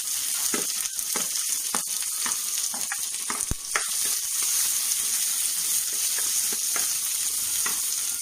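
Shallots sautéing in a pan, a steady hissing sizzle punctuated by repeated sharp taps and scrapes of a spoon stirring, close and even, with no voices.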